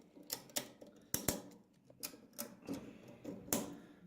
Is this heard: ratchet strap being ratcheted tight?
yes